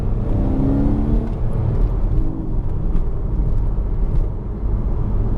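A Porsche Boxster's engine heard from the cabin, a loud steady drone that blips and falls as the driver rev-matches a downshift, with a rumbling undertone throughout.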